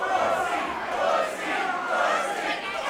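A wrestling-show crowd roars and chants in swelling waves, loud and continuous, filling the arena with massed voices.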